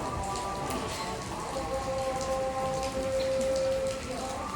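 Steady rain falls and patters on surfaces near a temple in Nagoya's Osu district. It is continuous and fairly loud, with a faint tonal hum running underneath and no talking.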